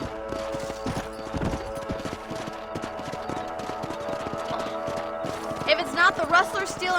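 Horses clip-clop along at a steady trot in the Red Dead Redemption video game, hoofbeats close and regular over a bed of ambient game music, with a brief whinny-like flourish near the end.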